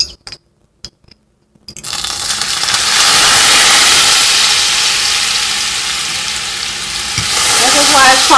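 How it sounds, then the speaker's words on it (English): A garlic clove with thyme and honey hits a hot pan and breaks into a loud, steady sizzle after a few quiet seconds and small clicks, then keeps frying vigorously to the end. "I'm going to go ahead and add my garlic clove. So it'll cook like on the bottom."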